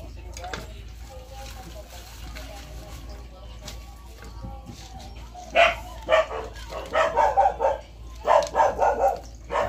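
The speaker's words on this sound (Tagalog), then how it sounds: "Pasensya na po kayo sa mga aso. Kasi marami aso rito." Dogs bark repeatedly nearby in short bursts after a stretch of quieter background noise.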